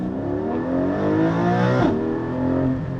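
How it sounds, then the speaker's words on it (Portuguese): A Porsche 718 Cayman GT4 on a racetrack roars at high revs with a rising engine note, a quick PDK gearbox downshift blip, then climbs again, loud and close from inside the car. "quando o ronco aumenta, dobra de altura, né? E o câmbio PDK, tocou, reduziu."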